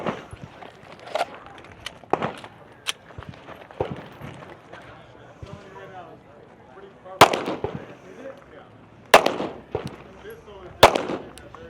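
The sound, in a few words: pistol shots at a shooting competition stage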